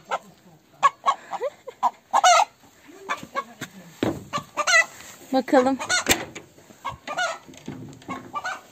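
Village hens on a farm near Eskipazar, Karabük, cluck in repeated short bursts close by, mixed with a person talking over them.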